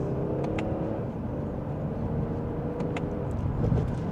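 A 2025 Lexus ES350 in sport mode and second gear accelerates mildly, giving a steady, moderately loud engine hum and road drone from inside the cabin with no rise to a hard rev.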